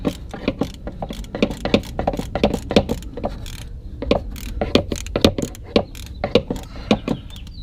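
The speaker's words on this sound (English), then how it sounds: "for that we're going to need a long extension ratchet, which is going to be probably about 18 to 20 inches." Long extension ratchet removing a bolt on a 2005 Honda Pilot during an automatic transmission fluid fill, with rapid clicking ratchet strokes in quick bursts and brief pauses, close and crisp with no talking.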